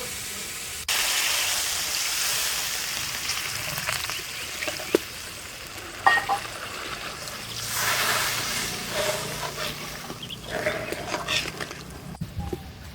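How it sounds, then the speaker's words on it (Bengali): Water is poured into a pan of spiced mrigal fish curry on the stove. A close, continuous gushing hiss with a light sizzle runs for most of the span and fades unevenly toward the end, with no talking. "এবার পরিমাণ মতো জল দেবো।"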